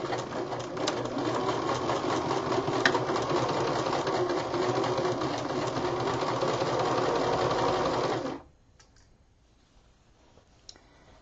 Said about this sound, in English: I'm going to sew this at a 5/8 seam allowance.